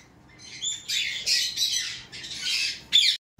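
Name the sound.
conure parrots squawking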